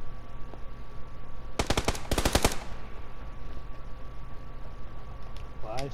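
Shots from an M24 sniper rifle in a video game: two quick clusters of sharp reports in the middle of the clip over a steady background hum, with a faint voice near the end.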